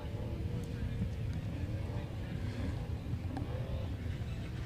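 A T1 desert race truck pulls away onto a short course at a desert off-road race, its engine a steady low rumble with broadband wind-like roar throughout, heard amid a commentator talking over it.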